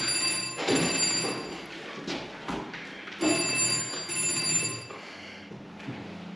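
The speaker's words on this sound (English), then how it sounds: "Someone answer that phone." A telephone bell rings in repeated bursts inside a historic castle interior, two clear ringing spells with a pause between, moderately near and alone without talk.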